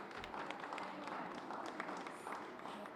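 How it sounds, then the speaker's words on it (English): Audience applauding the midwives at a maternal health services event, a faint, continuous patter of clapping heard from a distance. "Give them another round of applause."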